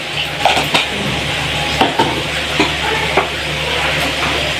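Curry leaves and slit green chillies fry in hot oil in a pan, a loud continuous sizzle broken by several clinks of a spoon stirring against the metal.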